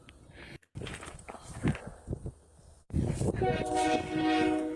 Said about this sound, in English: sounds like the train's coming